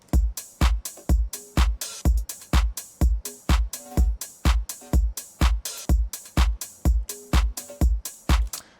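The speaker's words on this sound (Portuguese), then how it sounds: "Esse som que você ouve atrás, que parece tipo meio que um som elétrico, um choquezinho assim, nada mais nada menos é uma Perk com Spectral Resonator" Electronic drum loop with a kick and percussion layered with an electric, shock-like percussion sound shaped by a Spectral Resonator, hitting in a fast, even pulse with a buzzy tonal edge.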